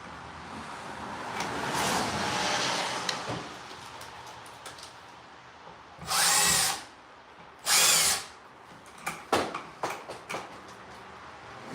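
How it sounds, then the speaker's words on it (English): A power drill fitted with a Phillips head bit whirs in two short, loud bursts, followed by several brief tool clicks and rattles, amid quiet room noise. "You hand me my Phillips head bit, drill."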